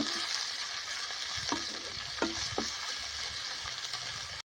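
Onion, ginger, green chili and garlic frying together in a pan with masala, a steady soft sizzle with a few sharp stirring clatters partway through and no talk.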